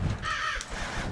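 Bird caw from the tower-defense video game Kingdom Rush Vengeance, a single harsh crow-like call sounding alone, close and moderately loud against a faint game background.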